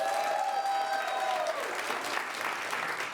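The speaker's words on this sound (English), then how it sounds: "now I want you to clap for all of the directors, but clap loudest for the directors that you would like to see their Act 2" An improv comedy audience claps for the show's directors, steady dense applause filling the room at close range and holding without a break, with no voices speaking over it.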